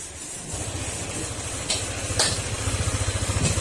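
A Honda ADV 150 scooter engine runs during a test after a coolant refill, a steady low chugging idle with rhythmic pulsing, close by, under a faint hiss and a few light clicks.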